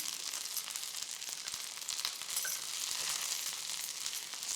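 Shallots and garlic frying in a pan for coriander chutney: a faint, even sizzle with soft crackles and light stirring, no voices.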